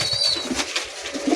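Pigeons from Uttar Pradesh coo softly close by, mixed with the flutter of wings and faint bird calls in a continuous, busy stretch.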